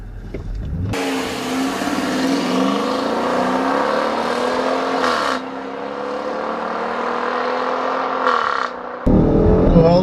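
A 2014 Dodge Durango R/T and a Range Rover Sport launch in a drag race, one engine revving hard with rising pitch through a long pull, a gear change near midway, then continuing to climb, loud and close.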